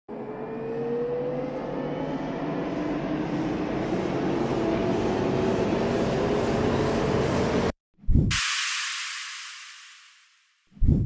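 Electronic riser and exhaust effects in a music build-up: a long sweeping noise riser with a rising whistle-like tone swells for several seconds, cuts off abruptly, then a white-noise exhaust burst fades out.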